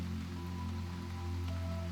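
Soft, steady patter of rain falling on a quiet street at night, faint and even, with a low hum underneath and no voices.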